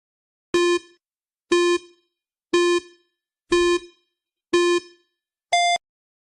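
Quiz countdown timer: six evenly spaced electronic beeps about one second apart, the last one higher in pitch, loud and alone.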